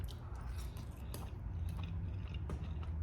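Crunchy pickled radish chewed up close, eaten alongside a Chinese special forces combat ration; steady moist crunching and biting continues for about three seconds with no talking.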